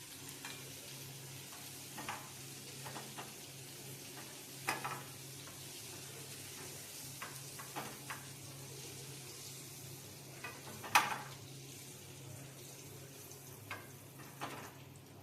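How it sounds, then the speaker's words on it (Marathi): Prawn fritters frying gently in oil on a low flame, a faint steady sizzle with scattered soft pops and occasional utensil taps. "छोट्या गॅसवरती फ्राय होईल ती."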